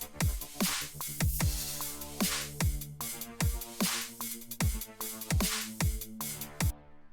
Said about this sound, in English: We can get a cool wobble.